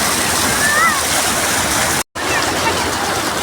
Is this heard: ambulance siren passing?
no